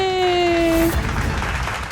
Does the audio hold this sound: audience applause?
yes